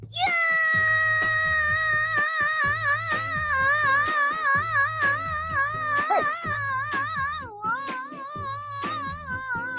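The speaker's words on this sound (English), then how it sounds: "So I just need a long scream as you just keep going." A long, sustained human scream holds at a high pitch for several seconds, wavering and breaking briefly near the end before resuming, loud and close.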